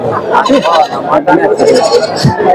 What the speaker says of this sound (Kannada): ಇದು ಮೇಕೆ ಆಡು ಅಂದ್ರೆ ಗಂಡು ಮೇಕೆ